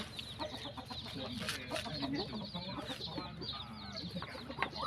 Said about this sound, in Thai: มาดูการให้อาหารไก่ของตาเรานะ